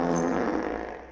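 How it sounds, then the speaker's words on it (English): A custom-made fart sound effect from a Scooby-Doo movie: one sustained, rumbling, buzzy burst just over a second long that starts loud and slowly fades, heard alone with no talking. "This is a custom fart noise, never heard before until this movie."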